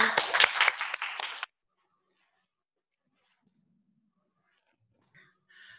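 Brief burst of audience clapping for a lecturer at a university special lecture, dense hand claps for about a second and a half, then cutting to near silence with faint small noises.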